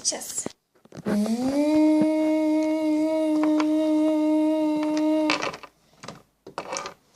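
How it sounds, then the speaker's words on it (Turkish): Hair dryer blowing in a spa play scene, a steady motorized hum that starts after a second, runs evenly for about four seconds, then stops, with short bursts of other sounds before and after. "İlk önce kurutacağız. Sonra fön"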